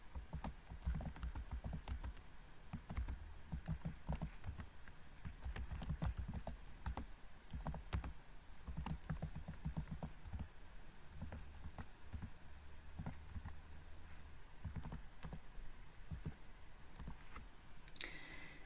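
Steady typing on a computer keyboard while entering reference details into EndNote, continuous quick key clicks with irregular rhythm, close and faint, with no talking.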